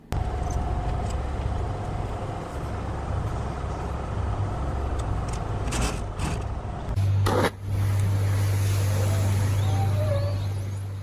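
A log transport truck drives along a mountain road from the forest toward a lumber mill, its engine a steady low drone throughout, with a heavier rumble swelling partway through and holding to the end.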